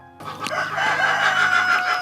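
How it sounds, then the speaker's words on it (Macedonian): Roosters crow loudly and hens cluck on a farm in the Strumica valley, with a brief sharp squawk at the start and a dense, continuous chorus of fowl calls close by. "Распеани петли, кокошки, разгаламени"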